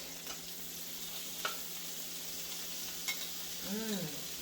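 Shrimp sizzle steadily in a hot skillet, the frying hiss constant throughout, with a few light clicks as the pieces are placed and a short tonal squeak near the end.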